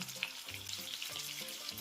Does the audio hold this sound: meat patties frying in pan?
yes